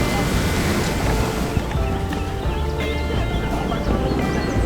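Sea waves roll and wash against the rocky Yehliu Geopark coast in Taiwan, a continuous loud surf roar with wind buffeting the microphone.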